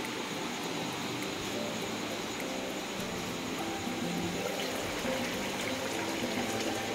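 Tap water runs steadily while metal kitchen containers are being washed, a continuous broad splashing hiss at moderate level with no speech over it.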